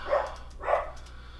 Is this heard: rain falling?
no